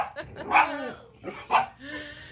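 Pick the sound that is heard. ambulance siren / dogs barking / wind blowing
dogs barking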